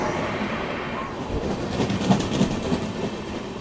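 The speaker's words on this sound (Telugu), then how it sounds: "సో ట్రైన్ వస్తుంది, క్యాప్చర్ చేద్దాం." An express train runs past on the line with a steady rolling rumble, light clickety-clack of wheels on rail joints and a faint high squeal, moderately close.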